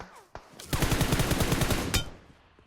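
Rapid automatic gunfire in PUBG Mobile, a loud close burst of evenly spaced shots lasting over a second, preceded by a couple of single shots, with no talk over it.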